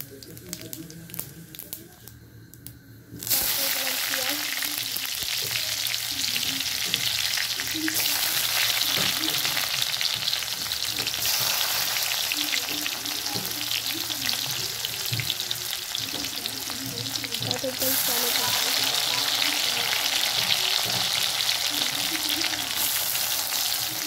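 After a few quiet seconds, potatoes hit hot oil and a loud, steady sizzle takes over, crackling continuously with occasional stirring sounds.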